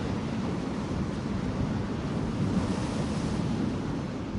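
Waves wash steadily around the Waugoshance Lighthouse tower on Lake Michigan, a continuous rushing surf roar mixed with wind, with no voices.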